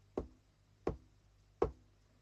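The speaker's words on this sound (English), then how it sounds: "He stepped up to the huge oak door and half-jokingly knocked 3 times." Three slow, evenly spaced knocks on a huge solid oak door, close and fairly quiet, with silence in between.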